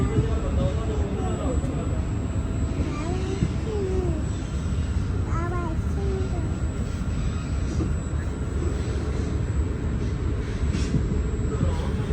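A passenger train in Italy travelling toward the small town of Latina, its steady rumble filling the carriage while voices murmur in the background.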